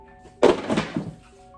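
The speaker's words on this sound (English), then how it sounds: "That was the sound of my books falling on the ground." A single dull thud of a stack of books dropping onto a hard floor, a brief clattering tumble that quickly dies away in a quiet room.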